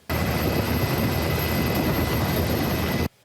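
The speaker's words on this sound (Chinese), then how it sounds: "空勤直升机前往雪山的圣灵线" A rescue helicopter flies toward Xueshan (Snow Mountain) in Taiwan, its steady rotor and engine roar loud and continuous before cutting off abruptly at the end.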